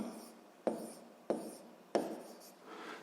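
A pen scratches notation onto paper in a quiet room: three short, distinct strokes, each starting with a light tap and trailing into a soft rasp.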